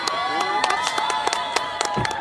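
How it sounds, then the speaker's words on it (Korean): A crowd at the Japanese prime minister's visit to Andong, South Korea, applauds and cheers with scattered sharp claps and lively shouts, moderately close and continuous. "박수 한번 주세요"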